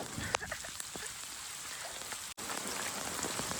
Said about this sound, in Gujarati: વરસાદ પણ જોરદાર આવી ગયેલા સવાર સવારમાં